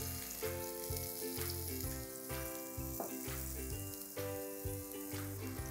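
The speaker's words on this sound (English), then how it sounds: "While you're grilling this stick," Paneer sticks grill in a hot pan with a continuous close sizzle, a few louder spitting bursts breaking through a low rhythmic hum in the background, with no talking.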